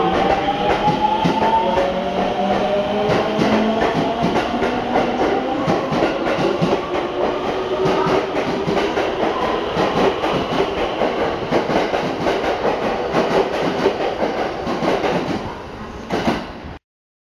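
A stationary JR West electric train waits at a station platform, humming with steady whining tones that slowly shift pitch, then a brief clunk as things go quiet at the end.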